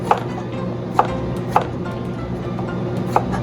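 A knife slices food on a cutting board, likely beef tenderloin or eggplant, in four distinct sharp taps spaced unevenly against a soft background hum.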